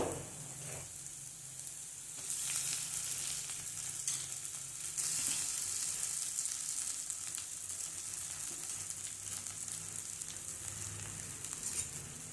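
Poha (flattened rice) stir-fries in a pan with a steady, soft sizzle and occasional scraping stirs, close but fairly quiet and without any voices.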